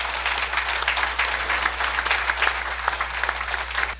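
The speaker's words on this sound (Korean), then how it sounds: "우리 발표자들에게 박수를 한번." An audience at a Korean church debate forum on the WCC applauds its two presenters, dense steady clapping filling the whole stretch at moderate volume with a low electrical hum beneath.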